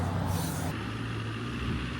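A bus rolls past on a Jeju Island road, a broad engine and tyre rumble with a brief hiss of air at the start, fairly close and steady with no talk.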